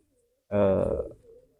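A pigeon, seemingly a young squab, gives one short, close coo that fades after about a second, with quiet surroundings before it.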